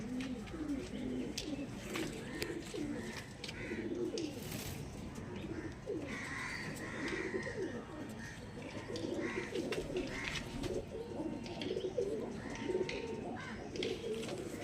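Andhra Madras pigeons coo continuously and softly, several birds overlapping in a steady murmur, with occasional faint chirps and rustling nearby.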